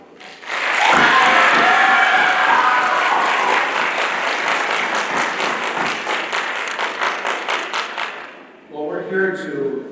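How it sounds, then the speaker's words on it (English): Loud, close applause from an audience at a student awards night, a dense burst of clapping that holds steady for several seconds, then thins out and stops, after which a voice speaks briefly. "Please join me in giving her a round of applause"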